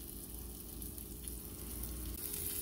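Onion sautéing in a pan, a steady, even sizzle that holds at moderate level throughout, with no voices over it.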